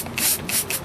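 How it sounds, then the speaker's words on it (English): A water spray bottle gives three quick, close hissing bursts, rinsing sharpening grit off a handmade knife blade. "We'll spray most of that grit off."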